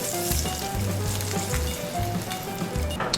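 Rainbow trout fries in burnt butter in a pan, a dense, close crackling sizzle running continuously, with low intermittent bubbling and hissing bursts pulsing through it, no speech.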